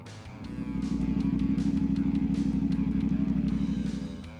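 A CF Moto 450 SS sport bike's parallel-twin engine swells into a steady, throbbing mid-pitched drone that holds for a few seconds and then eases off.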